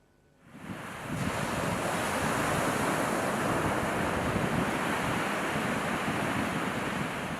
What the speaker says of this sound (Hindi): बारंबार सीमा लंघुछि समुद्र, कूड़ खाउछि, गिड़ी दउछि गाँ गंडा।